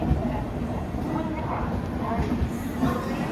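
A train rolls into Kharagpur Junction railway station at platform 1 with a continuous low rumble and rattle of carriages, mixed with faint station crowd murmur throughout.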